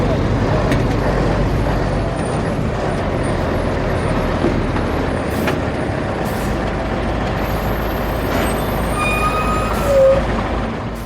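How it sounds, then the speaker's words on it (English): Lorries hauling nickel ore from the mines to seaside landing stages, a loud continuous rumble of heavy truck engines and road noise with brief air-brake hisses and squeals near the end. "Lorries transport nickel ore and highly concentrated nickel soil from the mines to the landing"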